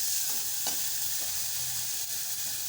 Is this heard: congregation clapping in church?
no